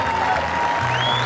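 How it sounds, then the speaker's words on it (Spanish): Loud crowd applause fills the stands at a Chilean rodeo arena after riders subdue a bull, steady and dense throughout with a voice carrying over it. "El aplauso es mucho más fuerte"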